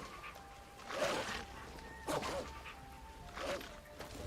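Pit wolves fight in the video game Skyrim, giving three snarling, yelping bursts about a second apart, moderately loud against a quiet background.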